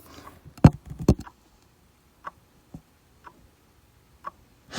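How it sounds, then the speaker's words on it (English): Ticks from a chiming table-top mantel clock, recorded close up, come as sharp isolated clicks at irregular intervals, with a louder cluster near the start and then sparse single ticks in a quiet room. "if I put the phone up here, you might be able to hear it ticking."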